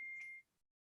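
A phone notification, a single short steady electronic beep at moderate level that cuts off cleanly into silence.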